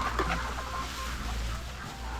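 Chickens cluck softly inside a backyard coop being treated against mites with lemongrass leaves, a few short clucks near the start over a low, steady background.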